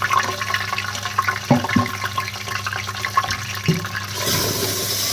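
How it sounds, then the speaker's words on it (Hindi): Water is poured into a pot of frying masala and garam masala in a home kitchen, a steady rushing pour with a few clinks of the pot over the sizzle, close and alone without talk. "आप इसे भूनने में थोड़ा पानी डाल देते हैं इसमें"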